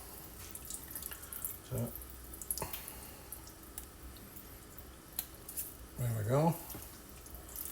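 Running water at a sink while a squid is cleaned by hand, with splashing, dripping and wet handling sounds, close up, as someone talks briefly.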